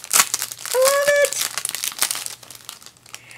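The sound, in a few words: card being taken out of paper and plastic wrapping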